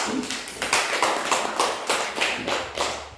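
Students clapping in a classroom during a teaching-skills lesson, a series of distinct, evenly spaced group claps in a steady rhythm, fairly close and moderately loud, with no talk over them.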